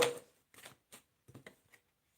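Tarot cards being shuffled in a few short papery riffling bursts, each separated by brief pauses, quiet and close.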